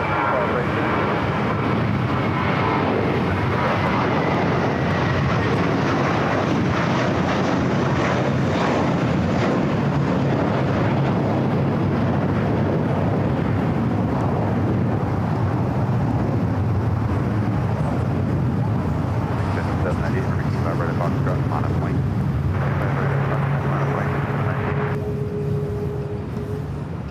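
An Airbus A321 takes off from runway 25 right at Los Angeles airport, its engines giving a loud, sustained roar that fills the whole stretch and slowly shifts in tone. No voices are heard over it.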